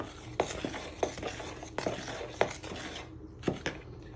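A knife stirs banana and chocolate chip muffin batter in a bowl, producing soft scraping and intermittent sharp clinks against the bowl at an irregular, unhurried pace, close up with no talk.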